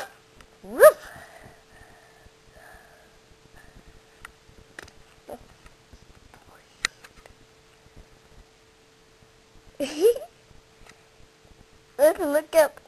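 A few sharp, high-pitched puppy barks and yips in short bursts, separated by quiet gaps with small scattered noises.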